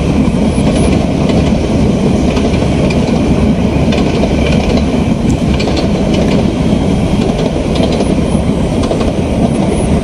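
A train passes close by with a loud, continuous rumble, rhythmic clickety-clack of wheels on rails and occasional metallic squeals, steady for the whole stretch.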